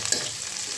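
Garlic and green chillies fry in a pan on lowered heat for a potato dish, giving a brief, close, steady sizzle.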